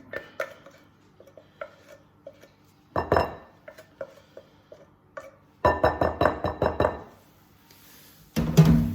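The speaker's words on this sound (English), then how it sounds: "Back in with the spoon, and now it's very definitely coming together as a dough." A spoon working ginger biscuit dough in a bowl, sharp clinks and knocks against the bowl in scattered taps and then a quick rhythmic cluster of strikes, close and clear with no talking.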